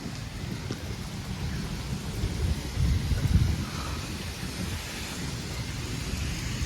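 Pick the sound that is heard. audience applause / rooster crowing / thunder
thunder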